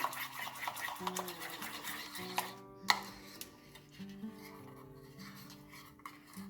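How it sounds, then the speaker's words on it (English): A spoon stirs and scrapes through whipped candle wax in a bowl, giving soft, continuous rubbing and scraping with a few brief knocks, fairly quiet and close, with no one talking. "If not, just give it a little bit of stir."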